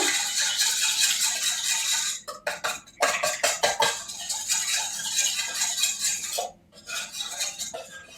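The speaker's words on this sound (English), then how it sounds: "I'm just using my spoon to mix it all together" A spoon rattles and clinks steadily against a bowl while stirring muffin batter for healthy gluten-free blueberry muffins, a quick busy rhythm with a few brief pauses.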